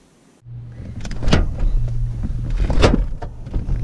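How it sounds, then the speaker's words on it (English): An electric power window motor whirs on a lifted Chevrolet Silverado pickup in snowy weather, a close, steady buzzing run with a few clicks and thumps. "Gotta love the snow, man. Damn, my truck looks high"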